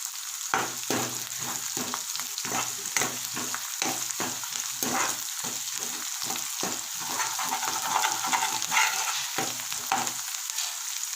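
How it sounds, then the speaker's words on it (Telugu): Coriander leaves frying in hot oil with spices for a curry, a steady close sizzle broken by repeated stirring scrapes in the pan. "దీంట్లోనే కొద్ది కొత్తిమీర కొత్తిమీర నూనెలో వేగితే చాలా బాగుంటుంది"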